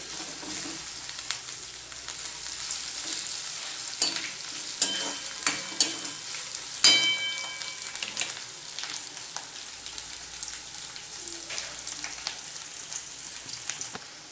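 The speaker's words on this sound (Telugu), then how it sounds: "కరివేపాకు ఇది మంచిగా కలుపుకోవాలి" Curry leaves fry in a pan for aloo manchurian with a steady, crackling sizzle, while a spoon stirs with intermittent scraping clinks. The sound is close and continuous, with no talking.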